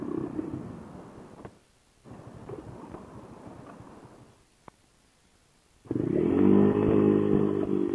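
A motorcycle engine rumbles through gear changes, then revs up loud and high with a rising, buzzing whine near the end.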